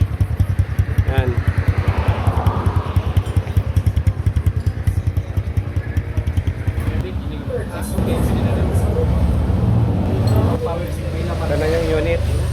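A smoky motorcycle engine with a worn block, running loud and close with a steady rapid throb and some rattle, its pitch rising briefly midway; someone talks over it.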